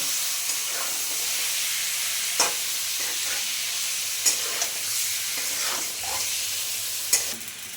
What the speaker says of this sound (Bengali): চিকেনগুলো আমি আলুর মতো সুন্দর করে ভেজে নেব।